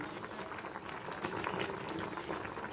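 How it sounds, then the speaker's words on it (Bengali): A pot of neem leaf curry bubbles at a rolling boil, with dense, continuous, close-up popping and gurgling of the liquid and no voices. "নিমের ঝোলটা ফুটতে শুরু করে দিয়েছে"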